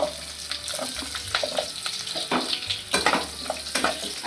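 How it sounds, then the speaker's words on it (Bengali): Onion pieces fry for chili paneer in a hot pan, giving a loud, continuous sizzle close by, with stirring scrapes and crackles layered over it. "এই সময় আমি পেঁয়াজের টুকরোগুলো দিয়ে দেব।"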